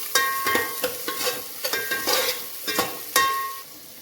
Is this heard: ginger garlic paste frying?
yes